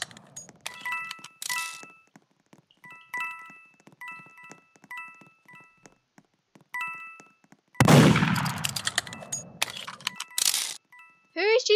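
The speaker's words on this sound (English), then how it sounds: "Who is she shooting?" Gunshots in the Murder Mystery 2 video game, sharp cracking shots and clinks scattered through game effects, with a dense loud burst of noise in the latter part.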